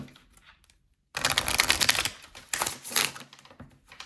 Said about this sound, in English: let's get you some cards here. I'm gonna shuffle.